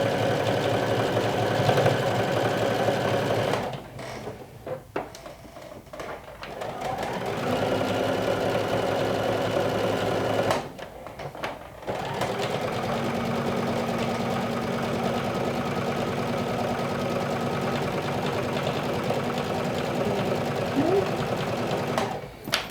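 A sewing machine runs steadily, stitching a hem on a lumberjack-style garment, its close mechanical hum broken by two short pauses before it picks back up.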